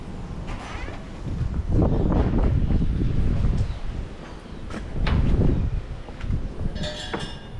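Wind blowing across a farm where chickens are kept, rising and falling in gusts that buffet the microphone, loud and close throughout with no voices.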